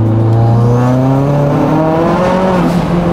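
A loud tuned Renault Mégane engine of about 500 horsepower revs and drones with a rising, shifting pitch, sustained throughout and very close, with no talking.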